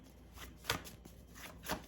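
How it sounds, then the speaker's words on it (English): A deck of tarot cards being shuffled at a table, with two quick riffling bursts about a second apart, close and fairly quiet. "This deck is hard to shuffle."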